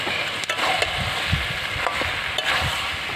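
Desi chicken and potatoes fry in a pan with a continuous close sizzle, broken by repeated scraping and clattering strokes from stirring.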